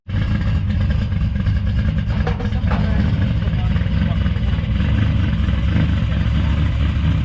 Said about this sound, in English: That 300ZX, for example, it sounds like a monster truck.